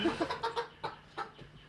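Backyard chickens at a house in Broad Ripple cluck in a quick series of short, nasal calls, close by and fairly loud, with a few softer clucks trailing off.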